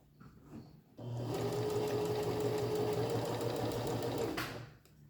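A sewing machine stitching a curved seam while sewing pajama bottoms, a close, steady mechanical whir with a fast rhythmic needle chatter that starts after a second, runs for about three seconds and then stops.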